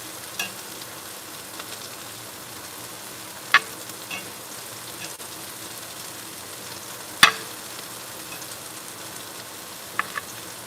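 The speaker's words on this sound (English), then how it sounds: "I don't know if you noticed the extra crispiness of these onions I'm turning over here." Onions fry for hamburger steak in a pan with a quiet, steady sizzle, broken by a few soft scraping clicks as a utensil turns them over; no one talks.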